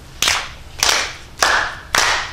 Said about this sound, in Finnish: Ensin taputetaan käsiä rytmikkäästi yhteen.